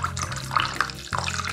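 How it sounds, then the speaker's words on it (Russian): Cold water running from a tap at a thermal spa, a steady close splashing stream that stays level throughout, with a faint hum beneath and no speech. "Вот холодная вода льется."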